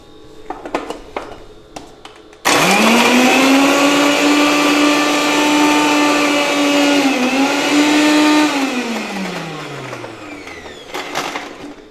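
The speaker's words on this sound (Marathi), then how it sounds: "आता हे मस्त मी मिक्सरला बारीक वाटून घेते मिरची" Mixer grinder blending garlic, green chillies and salt to a fine paste, a loud continuous motor whine lasting several seconds with a brief dip mid-run, then spinning down, with soft kitchen clatter before and after.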